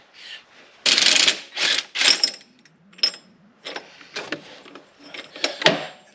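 A ratchet turns a 32 millimeter socket on a transfer case nut, giving bursts of quick rasping clicks in uneven strokes, close and fairly loud with no talk.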